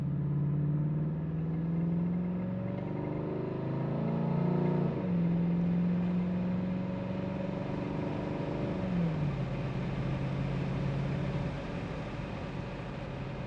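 A 1987 Chevrolet El Camino SS engine drones steadily, its pitch climbing through several gear shifts as it speeds up to about 65 mph along the road, with road rumble throughout.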